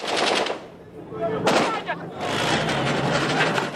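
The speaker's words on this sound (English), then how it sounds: "Flames and gunfire on the streets of Moscow." Rapid bursts of machine-gun fire crackle on the streets of Moscow during a news report, with a sharp louder volley midway and a continuous rattle of shots, partly under a voice.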